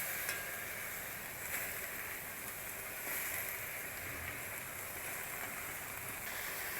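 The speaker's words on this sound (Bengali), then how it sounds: "কড়াই গরম হয়ে গেছে, এই যে শাক দিয়ে দেব" Dhepa shak leafy greens fry in a hot wok, giving a continuous, even hiss and crackle of sizzling with no breaks and no talking.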